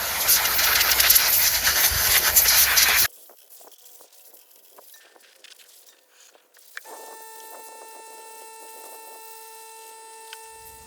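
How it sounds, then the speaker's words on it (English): Compressed air blasts loudly into a Toro Recycler Personal Pace self-propelled lawn mower, a strong steady hiss for about three seconds, then stops and leaves quieter clicks and a faint tonal hum. "We're going to get some compressed air and blow this out completely."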